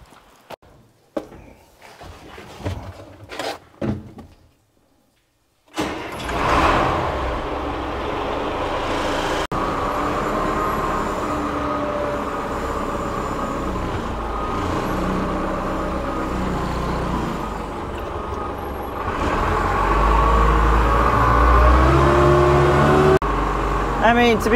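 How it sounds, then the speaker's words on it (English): A loader engine hauling poplar timber rumbles steadily after a few brief knocks and a short pause, its drone holding for a long stretch and then growing louder near the end as the machine works. "Let's go ahead and grab the loader and get that up to the house real fast."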